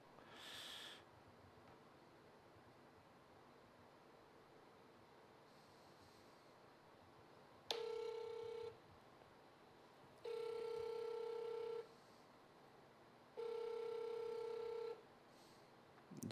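Three even ringback tones sound while an outgoing phone call waits to connect, each about a second long with pauses of a couple of seconds between them, clean and moderately loud, with no talk.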